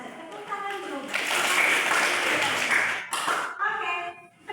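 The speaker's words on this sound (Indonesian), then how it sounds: "Tepuk tangan dulu." Classroom of students clapping hands together in a short burst of roughly two seconds, loud and close, with a teacher and children talking before and after it.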